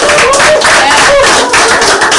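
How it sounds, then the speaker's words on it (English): Studio audience clapping at a steel orchestra launch event, a brief dense patter of hands heard close and loud, with a voice calling out over the applause. "give yourself a round of applause for coming out"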